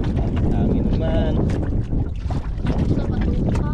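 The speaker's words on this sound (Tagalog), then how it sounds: "Hangin naman." Strong wind buffets the microphone outdoors near boats on the water, a continuous loud roar with gusty swells, briefly overlaid by faint tonal chirps.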